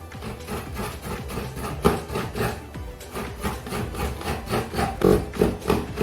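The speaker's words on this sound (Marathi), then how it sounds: "आता मी खोबरा कापतोय" Fresh coconut being cut for a Malvani mutton curry, heard as a close, steady series of scraping, knocking cuts with irregular rhythm and occasional sharper hits, with no talk over it.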